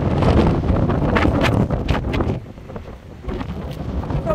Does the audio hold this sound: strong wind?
yes